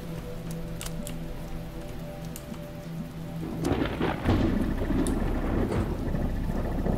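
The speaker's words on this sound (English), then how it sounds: "Ooh, it's getting stormy again." Stormy weather in The Talos Principle video game: steady rain patters throughout, then a loud rumble of thunder rolls in halfway and swells into a heavy, crackling downpour, with no talking.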